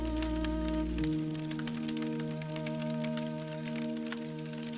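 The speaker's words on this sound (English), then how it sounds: "with the rain sliding slowly down the glass." Rain patters on a mountain lodge window as scattered, soft drops, faint and steady behind a low humming drone, with no voices.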